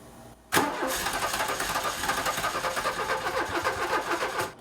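A VW Fox car with troublesome fuel injection cranks briefly and catches, then settles into a steady, close, lumpy idle after a sharp start.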